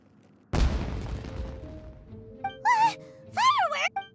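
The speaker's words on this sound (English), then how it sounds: "Was that an explosion? It sounded like fireworks." Firework explosions in the Genshin Impact video game: one loud broadband boom with a long crackling decay, followed by game music and bright whistling, chirping effects.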